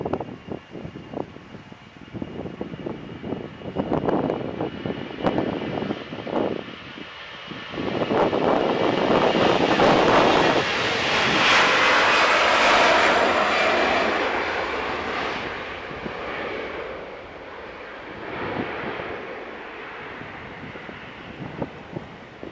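Jet airliners at Manchester Airport rumble and roar steadily, with engine noise swelling to a broad, sustained whoosh around the middle before easing off, heard from a distance through light wind noise and without voices.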